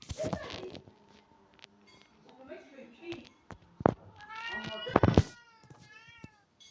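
A cat meows several times, short and fairly close, with quiet background noise and faint voices between the cries.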